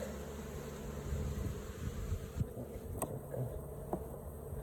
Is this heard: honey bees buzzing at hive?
yes